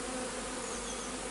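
A dense mass of honeybees in a hive used as a queen cell builder hums continuously, a thick, even buzz filling the whole moment with no voices.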